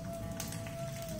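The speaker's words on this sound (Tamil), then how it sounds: "எண்ணெய் சூடானதுக்கு அப்புறம் இதுல கடுகு, உளுத்தம் பருப்பு," Mustard seeds and urad dal crackle and sputter in hot oil for a South Indian mango ginger rice tempering, a steady close fizzing with scattered sharp pops throughout.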